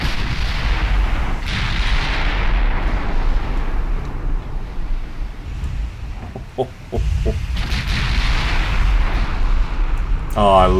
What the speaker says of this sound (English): Oh, I love 15-inch guns.